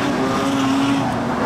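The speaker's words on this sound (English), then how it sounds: "What a race for production cars." Production sedans race at Kingaroy Speedway in an A-Main for the Australian Grand Prix, with a loud, sustained engine roar and a rising pitch as a car passes nearby.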